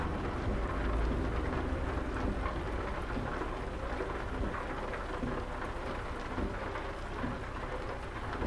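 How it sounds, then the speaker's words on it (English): Heavy rain in Euro Truck Simulator 2 pours steadily with a continuous rushing hiss, deep rumbling underneath like distant thunder, and no speech. "At least we both got rain at the same time."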